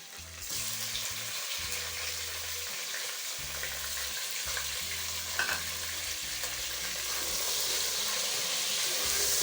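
Half a kilo of chicken fries in a pan with onion, ginger and garlic, giving a steady, close sizzle with occasional stirring scrapes and bubbling.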